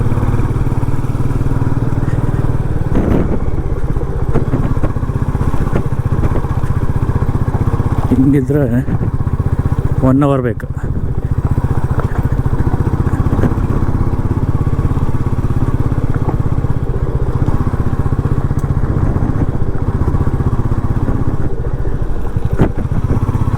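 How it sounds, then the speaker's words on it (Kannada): A new, barely run-in motorcycle rumbles steadily while ridden solo over a stony, rocky forest road on the way from Bangalore to Dharmasthala, with a constant loud close engine drone and the rider talking over it throughout. "ಕಲ್ಲರ ಮೇಲೆ ಬೈಕ್ ಹತ್ತಿಸಿದ್ರೆ ಸ್ಕಿಡ್ ಆಗ್ತಿದೆ."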